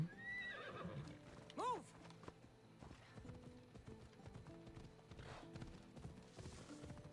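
In Assassin's Creed Odyssey, a horse gives a loud whinny early on while hooves clip-clop in a steady rhythm throughout, with a speaking voice heard faintly underneath.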